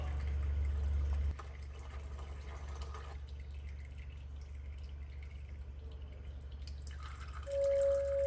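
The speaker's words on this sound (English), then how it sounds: "we'll wait for that to drain" Fluid drains from the drain plug of a Honda Civic FK2 Type R with a K20C1 engine during a full service, a soft, faint trickle over a steady low hum, with a brief tone near the end.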